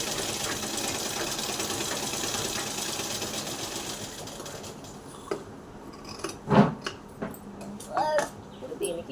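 A sewing machine runs steadily while stitching a princess boat-neck blouse neckline, a continuous whirring that stops midway, followed by a few clicks and brief speech.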